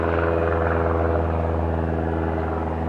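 Steady, loud droning of an airplane flying low overhead near an airport, a continuous engine rumble with strong low tones that holds evenly throughout with no talking.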